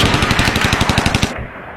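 Rapid automatic gunfire sounds in a documentary about the 2021 assassination of Haitian president Jovenel Moïse, a loud, fast burst of evenly spaced shots lasting over a second before cutting off.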